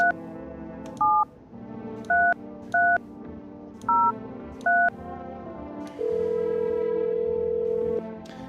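Phone dialing in the video game I'm Not A Human: six short electronic tone beeps in an irregular sequence, then a steady longer tone, over a low background drone with no talking.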